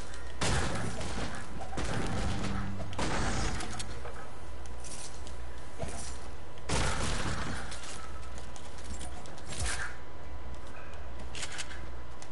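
Gunfire in a solo Fortnite match: repeated sharp shots and bursts scattered across the clip, loud and close, over a steady game background with no speech.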